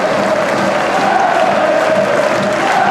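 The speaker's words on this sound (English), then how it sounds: "Takes the applause of his manager and the Dundee faithful" Dundee supporters in a football stadium applaud and cheer after their side scores, a steady, loud wash of clapping and crowd noise with no pause.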